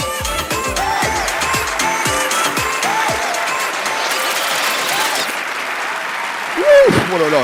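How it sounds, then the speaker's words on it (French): Loud audience applause with some cheering fills the room at a model competition finale, steady and dense, with a voice briefly rising over it near the end. "on applaudit très fort la première partie des modèles"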